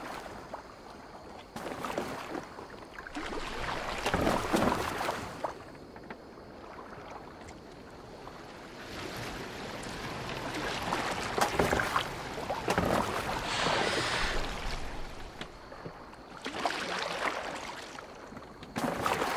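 A boat glides over water in Assassin's Creed Valhalla, with swelling splashes and rushing wash rising and falling in waves, wind noise throughout and no talking.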